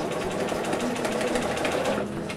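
Sewing machine running a zigzag stitch, a fast steady mechanical whir and chatter heard up close for a couple of seconds before easing off.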